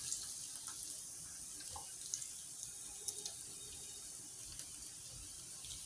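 Onion frying in hot oil for chola bhuna, a soft, fairly faint and even sizzle with small scattered crackles and pops throughout, and no voices.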